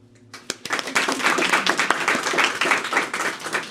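A crowd at a humanitarian awards ceremony breaks into applause, dense clapping that swells quickly and holds steady, filling the room with no voices over it.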